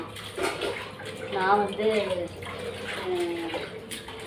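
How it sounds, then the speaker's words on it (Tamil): Sardines being washed under running water in a home kitchen, a steady splashing tap stream filling the clip while someone talks over it. "சாலை மீனை வந்து வாஷ் பண்ணுறேன்."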